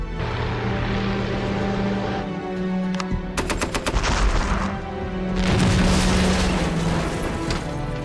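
Heavy video-game gunfire in Panzer Tactics HD as an anti-aircraft unit shoots down a Heinkel plane, with loud sustained machine-gun bursts and booming impacts layered over a continuous battle rumble.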